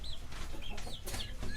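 A Hejazi rooster clucks in short, close bursts amid other fowl sounds, with no talk.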